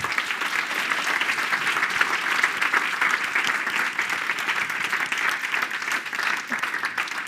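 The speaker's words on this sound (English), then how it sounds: "Can we please just give them a huge round of applause?" A large conference audience bursts into sustained applause for the day's speakers, volunteers, sponsors and AV team, a dense, steady wash of clapping that holds at full strength throughout.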